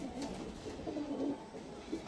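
A male Teddy pigeon, a high-flying Pakistani breed, gives a few low, soft coos close by against quiet background noise, with no one speaking.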